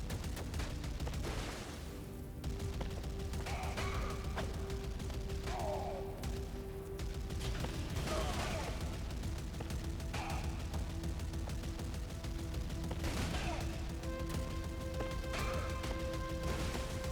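Rapid bursts of gunfire in the Switch 2 shooter Neon Inferno, sharp repeated shots mixed with crashing impacts and steady game background noise throughout.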